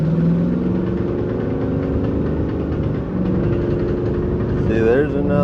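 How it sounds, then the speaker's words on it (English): A Ford Super Duty truck with noisy, shaking rear brakes gives off a loud, continuous rumbling drone with a throbbing vibration, close by, that briefly dips and swells near the end. "So, the brakes back there are what's making all that noise and all the shaking."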